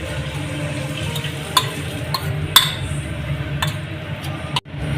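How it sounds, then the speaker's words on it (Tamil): A spoon stirring masala with salt and turmeric in a pan for chicken fried rice, a soft steady scraping over a low sizzle with a few sharp clinks of utensil on metal. "சேர்த்து நல்லா கிண்டிக்கலாம்."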